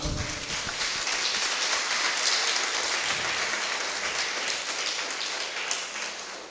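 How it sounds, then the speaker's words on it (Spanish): A church congregation gives sustained applause during a service, a dense even roar of many hands clapping, rain-like and filling the room, with almost no talking over it. "Dele un fuerte aplauso al Señor."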